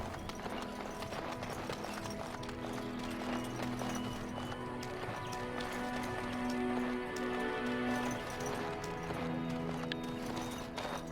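Steady horse hooves clip-clop through a Dragon Age game scene, with an occasional whinny over continuous layered ambience and tonal game music, faint voice murmurs in the background.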